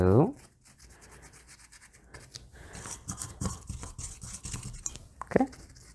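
Soft, irregular dabbing and rubbing strokes of paint pressed onto fabric, close and quiet, coming in short scuffing bursts with a brief voice at the start.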